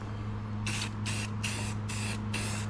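Five short aerosol bursts of weld-through primer hiss onto steel trunk floor panels of a Chevelle under repair, evenly spaced with brief pauses, over a steady low shop hum.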